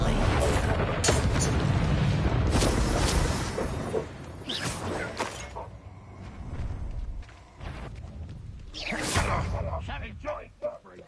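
A fire spell cast in the Hogwarts Legacy video game bursts out as loud booming, whooshing blasts. Several heavy hits recur across the clip, and a voice is heard between them.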